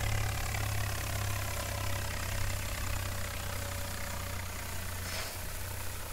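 Steady low engine drone of a tractor idling in Farming Simulator 19, in a rice-harvesting session with a Vishal 435 combine, holding constant and fairly loud throughout with no talk.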